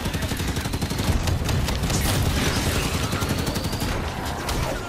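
Rapid automatic gunfire fires at the player in the Halo 5 video game, a dense continuous burst of sharp shots lasting several seconds, loud and close.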